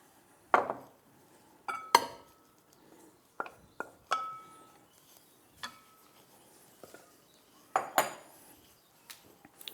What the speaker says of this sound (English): Let's get a bigger bowl.